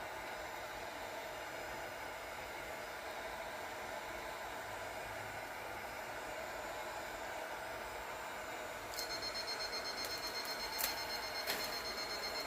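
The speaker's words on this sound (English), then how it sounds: "I accidentally turned that timer back on." A steady hot-air hiss from a heat gun fills the space near an epoxy resin countertop, then a kitchen timer starts beeping near the end in sharp, repeated high electronic bursts over the blowing.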